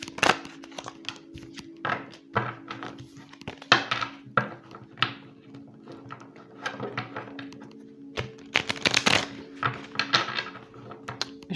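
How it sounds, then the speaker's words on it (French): An oracle card deck is cut and shuffled by hand, giving a series of soft papery slaps, riffles and light taps that come and go over several seconds, close and fairly quiet. "Je vais couper pour en prendre une autre."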